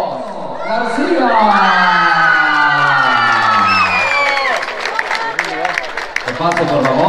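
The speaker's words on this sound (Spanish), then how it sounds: "vuelven los aplausos" A crowd at a contest event cheers, whoops and applauds together, loud and close, with shouting voices rising over the clapping and tapering toward the end.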